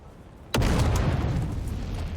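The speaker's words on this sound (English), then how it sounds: "Whoa, grenade!" A single sharp grenade blast in Dune: Awakening erupts suddenly, then a rumbling low tail rolls on for over a second, close and loud with no talking.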